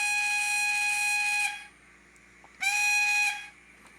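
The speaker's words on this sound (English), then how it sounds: "let's listen to the whistle" A steam train whistle from a Soundtraxx Econami DCC sound decoder fitted in a Hornby 9F model locomotive gives two shrill, steady tonal blasts, the first long and the second shorter, with a short gap between them.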